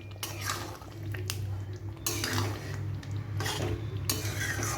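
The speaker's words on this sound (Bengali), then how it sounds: "এটা মিশিয়ে দেব।" A spoon stirs pointed gourd curry with ghee and garam masala in a pan, scraping and clinking against the metal in repeated strokes over a low steady hum.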